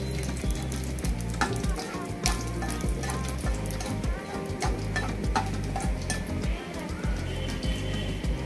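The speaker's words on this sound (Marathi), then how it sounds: "आता आपण पटकन सुरुवातीला ड्रायफ्रूट्स फ्राय करून घेऊया" Dry fruits fry in a pan as the first step of a bottle gourd halwa, giving a steady, fairly loud sizzle with a continuous low rumble and occasional sharper crackles throughout.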